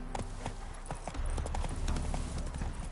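A horse's hooves clip-clop in a steady, close rhythm in the video game Witcher 3, over a low, rumbling ambient background.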